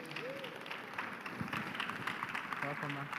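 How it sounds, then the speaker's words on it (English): A summit audience claps steadily to welcome a speaker, a dense patter of hands across the hall, with voices talking over the applause. "Can we, with a clapping ovation, welcome her as she takes us further from here"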